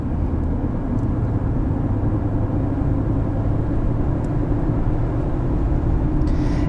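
A 2014 Infiniti Q50 with the VQ 3.7 engine drives along, its steady low engine drone and road rumble heard from inside the cabin, constant and fairly loud throughout.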